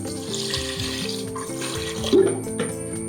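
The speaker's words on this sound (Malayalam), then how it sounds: "ഇത് വേകാൻ ആവശ്യമായ വെള്ളം നമുക്ക് ഒഴിക്കാം." Water poured into a pot of washed moong dal for a Kerala sadya sambar, a steady running splash that continues for a few seconds with a brief louder splash near the end, close by and with no talk.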